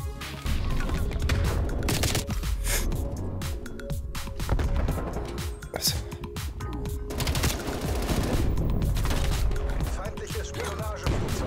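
Dense gunfire from the shooter game Call of Duty: Black Ops Cold War, with continuous rapid automatic bursts, single shots and explosions filling the whole stretch, loud and close, while someone talks over the battle.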